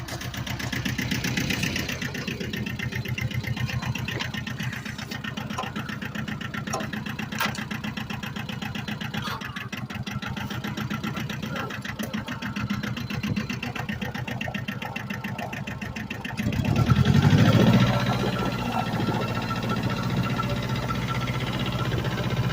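A tractor engine idles and runs steadily with a rapid mechanical chatter while hooking up to pull out a 1984 Toyota Tercel SR5 4wd, continuous and moderately close, briefly rising in load near the end.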